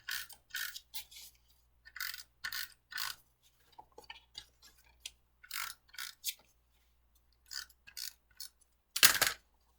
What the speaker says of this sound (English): we're just going to put on just some adhesive, and so I'm going to do this with my tape runner